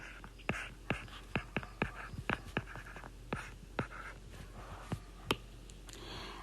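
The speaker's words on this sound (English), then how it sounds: "So let's write down our formula here." Handwriting a formula with a pen or pencil on paper, a close, quiet series of scratchy strokes and small taps in an irregular rhythm.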